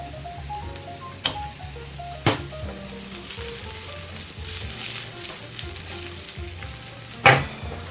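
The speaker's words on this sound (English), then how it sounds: "And fry with a pinch of salt." Onions sizzle steadily in a pan with a pinch of salt, a close crackling fry broken by a few sharper clinks and scrapes of stirring.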